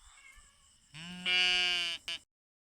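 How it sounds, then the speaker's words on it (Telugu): A cat gives one drawn-out, plaintive meow that rises into a loud, strained wail and ends in a short final yelp, close by with no talk. "ఈ పిల్లిని అయితే మళ్ళీ ఎదురొచ్చింది"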